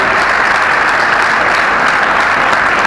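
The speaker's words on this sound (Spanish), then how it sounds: "un aplauso para todos ustedes" Loud, dense applause from a big audience at a national political congress, a continuous even roar of clapping close by with no pauses.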